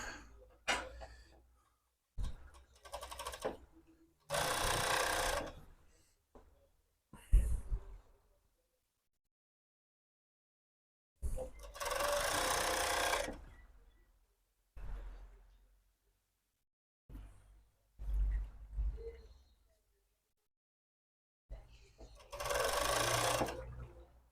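A sewing machine runs in several short bursts of steady, rapid whirring, separated by pauses with fabric handling and light clicks; no talking.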